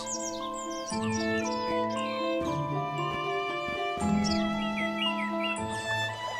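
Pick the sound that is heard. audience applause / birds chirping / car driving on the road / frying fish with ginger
birds chirping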